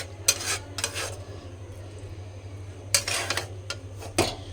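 Pots, pans and utensils clatter in a home kitchen while curry is reheated on the stove, a few sharp metallic clinks in separate clusters over a steady low hum, close by and fairly quiet.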